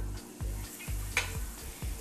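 Butter sizzles in a frying pan, a steady close crackle with a few faint scrapes and clinks, no voices.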